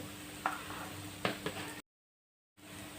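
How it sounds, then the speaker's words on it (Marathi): Crushed peanuts roast in oil while being stirred, giving a soft, steady sizzle. A few sharp scraping strokes sound over it before a brief cut to silence and back. "शेंगदाण्याचं कूट ही तेलामध्ये चांगलं भाजायचं आहे"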